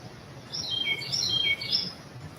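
A bird chirps in a run of high, quick tweets and trills over a soft, steady ambient hiss, heard alone and at a moderate distance.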